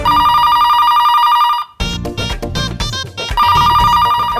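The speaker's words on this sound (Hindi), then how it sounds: "फोन क्यों नहीं उठाता कोई?" A telephone bell rings loudly and steadily for over a second, breaks off into a burst of busy clattering sounds, then rings again in the same sustained way.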